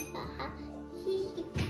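Metal spoons clink together a few times at a home birthday meal of pulao and rice, light and close, with a brief ringing ping standing out over a murmur of voices in the background.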